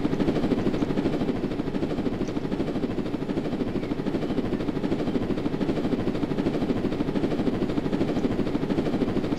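A helicopter in a video game gives a steady, fairly loud rotor drone with a fast, even chopping pulse, running unbroken for about nine seconds.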